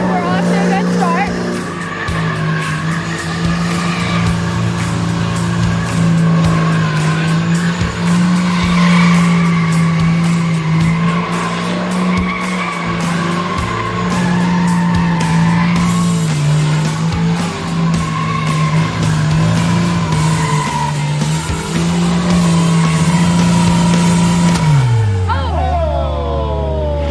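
A hot rod race car at a Roadkill Nights drag racing event roars continuously for around twenty-five seconds with squealing tires, then the engine noise drops away sharply at the end.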